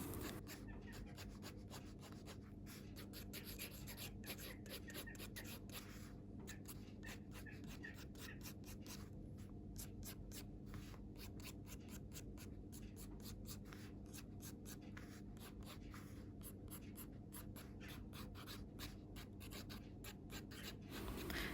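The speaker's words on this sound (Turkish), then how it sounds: "Önce Artline kalemlerle ince detayları veriyorum." Artline fine-liner pens drawing fine details on paper give a steady, close scratching and rubbing of pen tip across the page, continuous for about twenty seconds with rapid short strokes and no talk.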